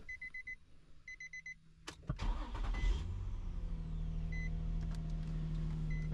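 A Nissan 350Z with a newly installed cold air intake chimes a few times, then the starter cranks briefly and the engine catches with a loud close burst that settles into a steady rumbling idle.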